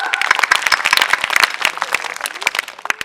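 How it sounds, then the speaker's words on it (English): An audience claps for a fifth-class student named Raghav at a school Christmas celebration, dense steady applause that fades slightly toward the end. "Clap for Raghav."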